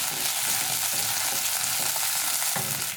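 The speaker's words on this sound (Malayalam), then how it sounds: "പിന്നെ ഒരു 5 പച്ചമുളക് മുറിച്ചെടുത്തത്." Cut green chillies frying in hot oil with curry leaves for paneer 65, a steady close crackling sizzle throughout with a few stirring scrapes, no talk.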